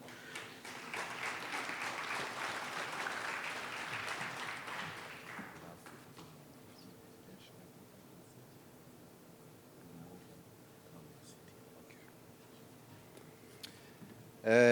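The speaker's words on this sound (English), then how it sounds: "a round of applause for Dr. Mutombo as we invite him to the podium" Audience applause at an international development conference as a speaker is invited to the podium, a moderate wash of clapping that fades out after about six seconds into quiet room tone with scattered faint taps.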